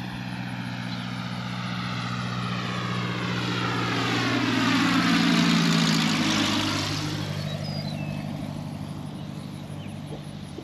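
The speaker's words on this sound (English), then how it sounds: "And the airplane coming in." A propeller airplane flies in over Lake Bentonville in Arkansas, its steady engine drone swelling louder as it nears, peaking midway, then fading off with a sweeping pitch shift, alone without voices.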